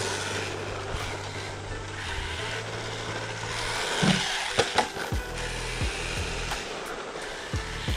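A Hosim X06 brushed 1/10-scale RC truck drives with a steady motor whine. A few hard thumps of landing follow a jump midway, then lighter knocks as it keeps rolling.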